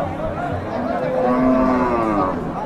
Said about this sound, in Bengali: এই দিকটাতে সব গাভী গরু